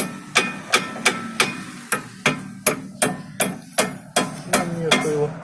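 A hammer tapping a cotter pin into place while fitting brake pads on an Opel Vectra B, about a dozen sharp metallic knocks in a steady rhythm, close and clear.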